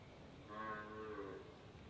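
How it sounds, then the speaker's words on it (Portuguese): A cow lets out a single drawn-out moo with a clear harmonic tone, faint and somewhat distant, rising and fading over about a second with no talk. "É a vaca."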